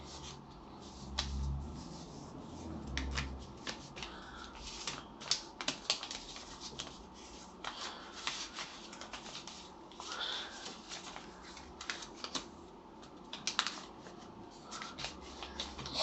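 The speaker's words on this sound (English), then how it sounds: "Then on this side here, you fold the corners in." Sheets of paper being creased and folded by hand while making a paper fortune-teller chatterbox, giving close, dry crinkles and soft taps in an irregular rhythm, with no speech.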